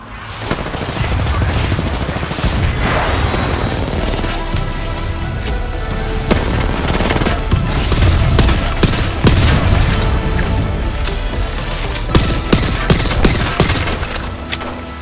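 Dense, loud gunfire from the Apex Legends battle royale game, with rapid overlapping bursts and booming impacts running almost continuously, thickening into sharp clustered shots near the end.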